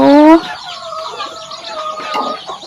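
A loud, sharp chicken call opens, followed by softer clucking and murmuring from laying hens roaming outside on a small farm, continuing at a lower level.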